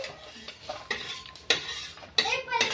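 Green chillies roast in a little oil in a pan, with a soft sizzle under several close scraping and tapping strokes of a spatula in an uneven rhythm.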